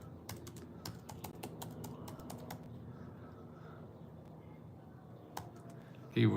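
Rapid keystrokes on a computer keyboard as a search is entered, a dense run of close clicking taps over a low steady background hum, easing off partway through before a brief louder bump at the end.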